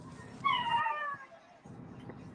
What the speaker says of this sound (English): Damn, Tish, you got a cat?